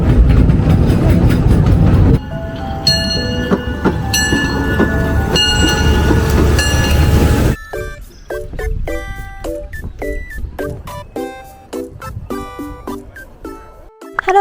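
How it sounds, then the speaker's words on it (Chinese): A small forest train at Ecoland park on Jeju Island rolls along with loud rhythmic clickety-clack and rumble, then quieter wheel clatter with squeals and clicks, heard up close from aboard. "我们现在在 Ecoland， 坐火车，嘟嘟嘟。"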